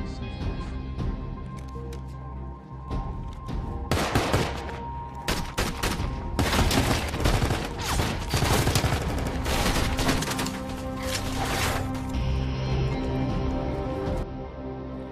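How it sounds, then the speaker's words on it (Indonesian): A shootout in a crime film about a DEA raid on a drug cartel hideout: loud, dense bursts of automatic and single gunfire crackle for several seconds amid background score and effects. "Namun sial bagi Tripod, dia kalah jumlah setelah tertembak dia masuk ke dalam rumah."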